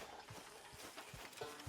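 Horse hooves clip-clop at a walking pace in the Red Dead Online game world, a run of soft, regular thuds set against a steady, quiet ambient background.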